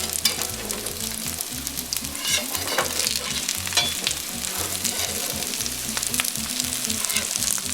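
A tempeh patty fries in a pan over high then medium heat, giving a dense, steady sizzle with crackling pops and spatters, close and continuous throughout.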